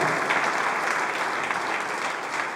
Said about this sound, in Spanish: ¿Por qué no le da un aplauso al Señor?